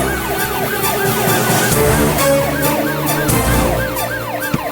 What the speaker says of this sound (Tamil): வெளியில வேற சைரன் சவுண்ட் எல்லாம் கேக்குது.